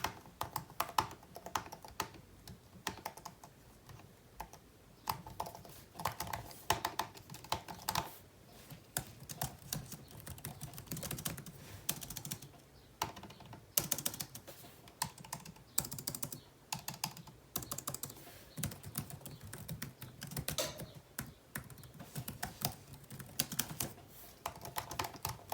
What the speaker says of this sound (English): a comparison of the key clickiness so you guys can just hear the comparison